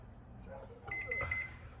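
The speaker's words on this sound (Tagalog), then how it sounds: "Nag-end na yung timer" An oven timer goes off while sticky rice biko bakes at 400 degrees, a short run of faint repeated electronic beeps in a quiet kitchen.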